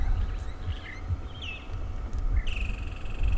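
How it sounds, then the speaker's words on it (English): Short, liquid trilling calls of a European bee-eater come through on an evening safari drive, a few brief notes over a steady low rumble of the vehicle. "That call you may be hearing is a European bee-eater."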